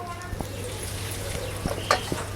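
Oil goes into a pan ahead of frying prawns, heard as a soft steady hiss with a few light clinks and scrapes of utensils against metal, close by with no one talking.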